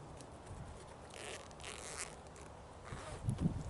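Quiet, close zipper pulls on a bag's zipper pockets in short bursts over soft background hiss, ending with a few light handling taps.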